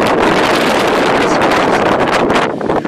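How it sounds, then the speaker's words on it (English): Strong wind roaring across a mountain trail, a loud, continuous rush buffeting the microphone throughout, easing only slightly near the end. "with the wind blowing as strong as it is"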